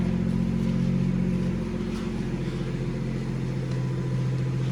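BMW M240i engine idling in sport mode just after a cold start, a steady low burble with a slight change in note partway through, moderately quiet.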